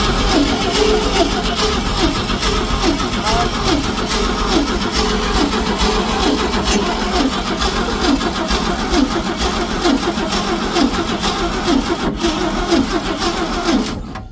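A 1966 Ford Econoline's engine cranks steadily and loudly for a long stretch, the starter's rhythmic churning pulses running almost unbroken with a brief kick of the motor.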